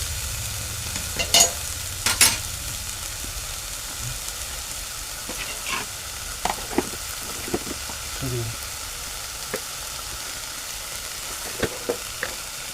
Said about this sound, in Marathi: हे बघा आपण आता हे वाटण परतून घेतलं आहे